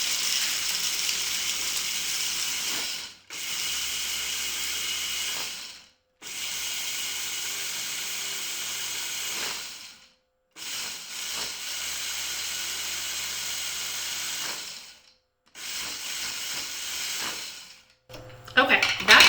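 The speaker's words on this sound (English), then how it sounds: "So I'm just gonna use my food processor and get those crushed up." A food processor crushes half a cup of almonds in four loud bursts of whirring, rattling grinding, each lasting a few seconds, with short silent pauses between them.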